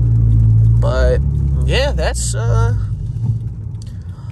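A Lexus IS350 with PPE headers and a custom exhaust idles with a deep, steady low rumble while someone talks over it.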